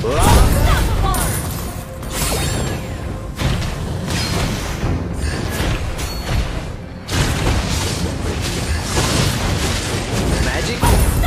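Valir's Lava Burst fire spell in a video game, a dense, loud run of booming fiery blasts and crashes that fills the whole stretch, with a short dip near the middle and game voices mixed in.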